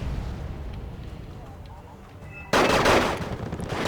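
After a few seconds of low rumble, a dense, continuous roar of rapid 7.62 minigun fire in the video game Wargame: AirLand Battle erupts abruptly and keeps going loud to the end.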